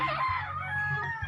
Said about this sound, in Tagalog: Nagbahog siya ng manok mga kaibigan